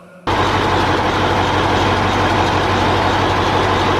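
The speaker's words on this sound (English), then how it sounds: "it's quite noisy at the moment because I've got the engine running" A heavy engine starts up abruptly and then idles loudly and steadily, with a constant low throbbing rumble close by.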